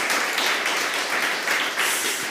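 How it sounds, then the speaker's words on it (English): An audience at a spring symposium gives a round of applause, a dense, continuous wash of clapping that holds steady, fairly close, for a couple of seconds. "A round of applause."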